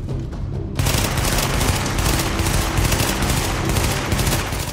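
Heavy automatic gunfire in the video game The Division, a dense, continuous burst of rapid shots that starts abruptly after a brief quieter moment and keeps going loud.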